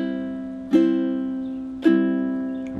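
Ukulele chords played with a slow triplet strum, twice, a brief ripple of strokes each time, left ringing and slowly fading, close and clear with no voices.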